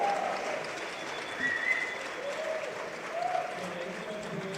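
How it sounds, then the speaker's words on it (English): Audience at a PPP Americas 2025 conference session applauds for Carolina, a steady, moderately faint wash of clapping that swells briefly a couple of times, with faint voices underneath. "ask for a round of applause for Carolina"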